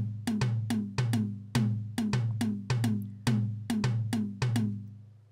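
A sequencer polyrhythm repeats sharp, bright percussive hits, one pattern landing every four sixteenth notes against another every three. The steady cowbell-like clicks and decaying tones play alone with no voices.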